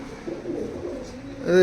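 Teddy pigeons cooing softly in a loft, a low murmuring coo running through most of the short stretch before a brief louder sound at the end.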